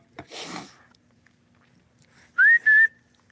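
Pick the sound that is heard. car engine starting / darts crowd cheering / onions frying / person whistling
person whistling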